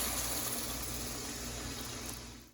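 Water pours steadily into a cooking pot for mushroom biryani, a continuous loud gushing rush with no pauses that tapers off only at the very end.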